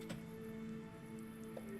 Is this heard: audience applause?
no